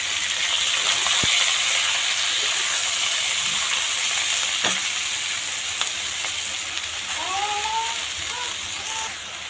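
Fresh farm-grown tandlichi greens dropped into hot oil with roasted garlic, chili and cumin over a wood-fired stove, a loud close sizzle with a few crackles and stirring. Faint birdsong sounds near the end.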